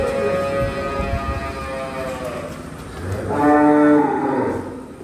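A Jersey dairy cow on a Punjab farm lets out long, deep, resonant moos close by: one sustained low call, then a second rising bellow, loud and clear with no talking.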